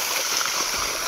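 Water from a farm motor pump pours into a field channel, a steady broadband rush of flowing water with no breaks or speech, heard close by.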